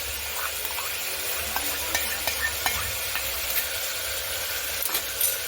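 Bottle gourd and chana dal being stirred together in a pan for a home-style curry, a soft steady sizzle with a few light scraping knocks of the spoon, close by and without talk.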